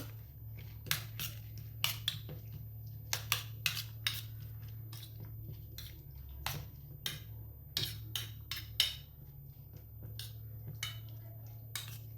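Radish and carrot salad tossed in a bowl with a utensil, giving irregular light clicks and taps spread through the clip over a low steady background hum, with no talking.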